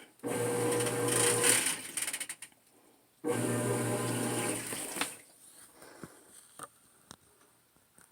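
A GE GTW750CSLWS top-load washer washing jeans runs in its soak phase: two bursts of mechanical whirring with water noise, each a couple of seconds long, followed by quieter clicks and knocks.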